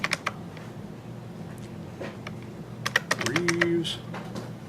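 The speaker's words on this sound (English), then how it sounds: "You're typing exactly that question in" Fingers type on a computer keyboard in a classroom, a quick uneven run of close key clicks with a denser burst near the end, while voices talk faintly in the background.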